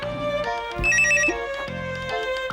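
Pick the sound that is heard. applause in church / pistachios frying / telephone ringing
telephone ringing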